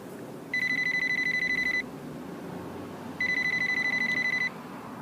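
A phone rings in a video game, two long electronic trilling bursts separated by a short pause, clear and close over a low steady background hum.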